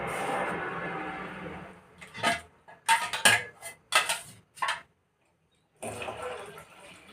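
Water swishes and pours into a mixer jar while rinsing it, a steady running splash at first, then clinks and knocks of the jar in a series of short bursts, a brief silence, then more pouring.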